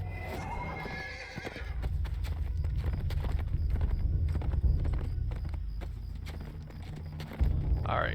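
A horse in a video game whinnies at the start, then its hooves clip-clop steadily and close at a riding pace, with a low rumbling ambience underneath.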